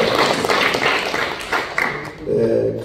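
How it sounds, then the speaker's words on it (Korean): A church congregation claps in welcome, with scattered hand claps forming a short, uneven round of applause. A voice speaks near the end. "그 손주가 한번 일어나면 박수로 환영합시다"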